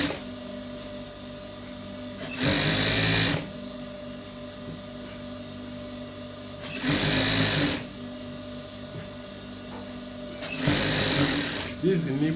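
A sewing machine stitches trouser fabric in three short, loud whirring runs, each about a second long, with pauses between them and a person talking throughout.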